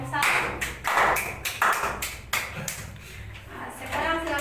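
A classroom group claps in brief scattered bursts to applaud a student presentation group, the uneven hand claps close and mixed with voices talking.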